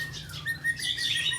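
Kapas tembak songbird singing, a brief run of high chirps and whistles, fairly close, over a low steady background hum.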